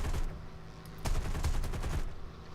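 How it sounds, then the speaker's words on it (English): 37mm aircraft cannon firing in the War Thunder flight game, a short run of heavy, rapid thumping shots over a steady engine drone. "All in a dead shot with the 37mm cannon."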